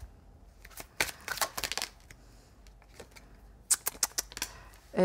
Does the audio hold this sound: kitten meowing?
no